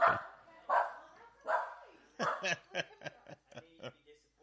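Dog barking in a run of short, sharp yaps, several close together, mixed with voices and light laughter nearby.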